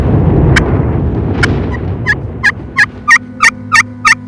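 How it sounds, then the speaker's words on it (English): A wild turkey gobbles in the woods, a string of sharp bursts that grow more rapid and regular toward the end, loud and near over a rumbling, noisy background. "when that turkey started gobbling to come in"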